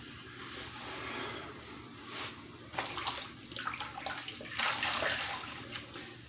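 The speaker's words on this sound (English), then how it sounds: "So we're going to rinse." Water splashes and runs as a face is rinsed during a shave, with soft irregular sloshing and hands scooping water close by, growing louder in bursts toward the end, no voices.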